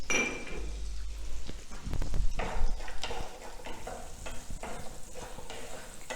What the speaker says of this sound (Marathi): मटारचे दाणे कोवळे असल्यामुळं लगेच भाजले जातात आणि ते कांद्याबरोबर छान मिक्स होऊन जातात